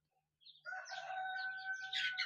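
A Plymouth Rock cockerel crows inside a shed, one loud, close, sustained call that rises after a short quiet lead-in and holds strong to the end, with no voices.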